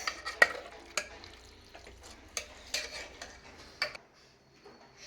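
A spoon stirs Telangana-style mutton curry in a pan, making irregular scrapes and light metallic clatters. The sounds come in quiet, uneven bursts over a soft background, with no voices.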